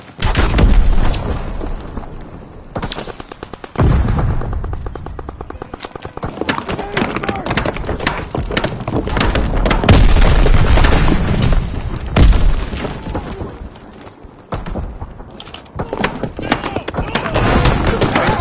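Call of Duty: WWII multiplayer battle with repeated booming grenade blasts and bursts of gunfire, loud and dense throughout, under voices talking.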